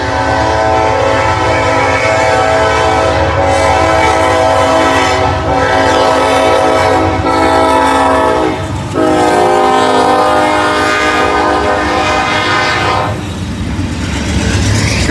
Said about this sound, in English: here's the first train of the day, and wouldn't you know it, it's the gondola train.